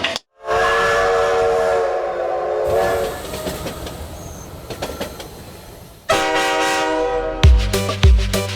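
A train whistle sounds in long sustained blasts, joined by rail clatter, within a lively song played at a church children's event.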